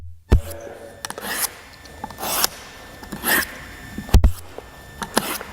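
A knife blade is drawn across a sharpener in evenly spaced passes, producing a few short rasping scrapes at a steady rhythm, close and clear.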